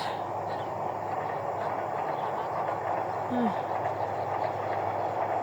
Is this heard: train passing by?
yes